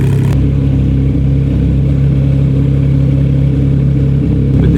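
A Porsche GT3 RS engine with a misfire runs loud and close in a steady, rough, low drone, uneven rather than clean, held for several seconds.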